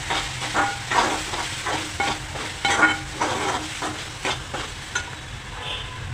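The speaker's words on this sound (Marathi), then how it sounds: "सर्व मसाले मीठ घाला आणि सगळं एकजीव करा" Spices and salt stirred into frying dry shrimp and masala in a pan, with a steady sizzle and regular scraping strokes of the spoon roughly every half second, close and clear with no voices.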